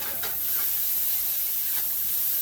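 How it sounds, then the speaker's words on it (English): A beef patty sears in a dry, very hot pan with no oil, cooking for a patty melt, giving a steady, loud, close hiss that holds unbroken throughout. "As you can hear, I have this ripping hot. I don't have no oil or nothing in it."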